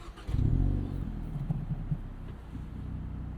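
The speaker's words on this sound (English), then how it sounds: "Let's fire it up. I'm going to see if I can start it in N mode." A warm 2024 Hyundai Elantra N with its 2-liter engine starting in N Custom mode with the loudest exhaust setting: a quick crank and catch, a brief low rev flare, then a steady, fairly subdued idle close by.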